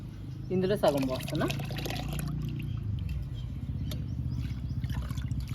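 Egg-yolk liquid plant fertilizer pours and splashes into a container of water, a brief gush followed by a steady trickle, close up and fairly quiet.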